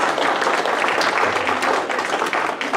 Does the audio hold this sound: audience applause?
yes